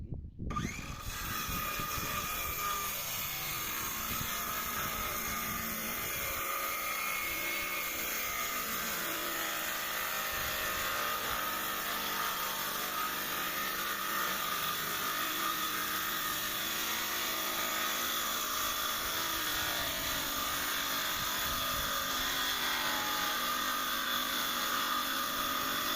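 A Modern M60 circular saw cuts into ironwood, a steady loud whining drone with grinding texture that holds without a break for the whole stretch, no voices present.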